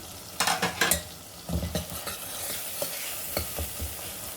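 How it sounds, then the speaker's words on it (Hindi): Tomatoes being fried and stirred in a pan for a Sindhi turai (ridge gourd) dish, with soft sizzling under a run of scraping spoon strokes against the pan, several sharper clanks near the start. "टमाटर को हम थोड़ी देर भून लेंगे जब तक हमारा टमाटर गल नहीं जाता"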